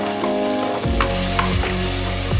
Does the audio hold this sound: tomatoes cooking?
yes